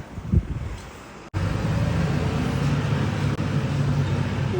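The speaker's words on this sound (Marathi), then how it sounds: "गाडी गेलेली आहे" Outside during a severe storm in the UK, a steady broad rumble of wind and a passing car fills the air after a brief knock, loud and continuous with no voices.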